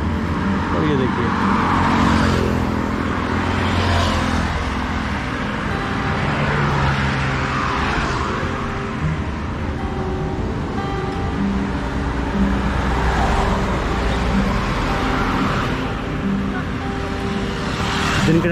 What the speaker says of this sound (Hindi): ये अभी हम खड़े हैं दिल्ली हरिद्वार हाईवे पे